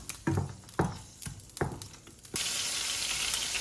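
Ginger garlic paste dropped into hot oil, giving a run of sharp crackles and spits before settling into a steady, loud sizzle that fills the rest of the moment.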